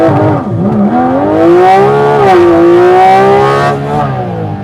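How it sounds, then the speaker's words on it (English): A Porsche 718 Cayman GT4 RS launches under launch control, its engine note climbing loud and sustained for several seconds after a brief early dip, with no talking. "There's your launch control."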